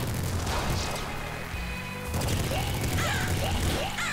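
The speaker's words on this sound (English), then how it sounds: "that was meant to be the greatest explosion ever" Explosions in the Nuclear Throne video game, a dense clutter of booms, bursts and gunfire-like pops over a continuous noisy game soundtrack, moderately loud, with no talk.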